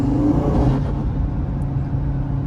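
An Audi RS3's five-cylinder exhaust drones loudly and steadily with its exhaust flaps open, a deep throaty rumble held close with no talking over it.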